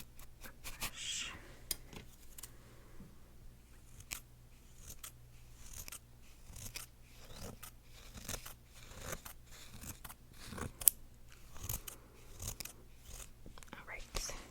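Small scissors snip during close-up ASMR eyebrow grooming, a series of soft, crisp clicks at an irregular pace with quiet brushing and handling sounds in between.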